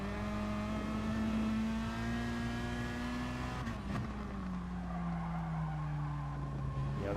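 In Gran Turismo Sport, a Gr.4 race car at Interlagos brakes lightly into a corner, its engine drone dropping steadily in pitch, with a brief tyre scrub midway through as the car turns in.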